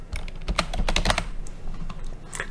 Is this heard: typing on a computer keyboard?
yes